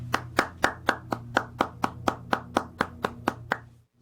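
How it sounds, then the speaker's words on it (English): Clapping honours a graduating class at a 2020 commencement: about fifteen crisp, evenly spaced claps in a strict steady rhythm, close and clear over a low hum, ending abruptly. "please join me in a round of applause for the class of 2020"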